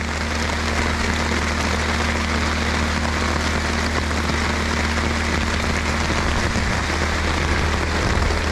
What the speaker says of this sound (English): So I'm hoping the rain slows down. I don't mind the rain.